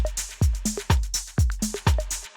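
Punchy electronic drums play a steady beat, kicks and snares washed in airy, echoing effects that give a spacious, processed sound.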